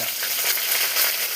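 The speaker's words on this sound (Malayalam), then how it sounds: "കടുക് ഇട്ട് കൊടുക്കാം. കടുക് പൊട്ടുന്നുണ്ട്. ഇടാം കറിവേപ്പില" Mustard seeds and curry leaves fry in hot oil in a pan, giving a dense, loud, steady sizzle with fine crackling pops throughout, close up and with no voices.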